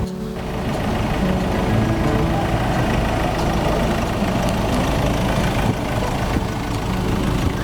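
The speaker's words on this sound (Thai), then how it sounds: "มีเครื่อง TDCI นะครับ เป็นเครื่องยนต์ดีเซลครับผม" A steady, continuous diesel engine idle from a Ford Everest Titanium SUV with a TDCi engine, a deep low rumble and faint knocking texture, close and unchanging throughout.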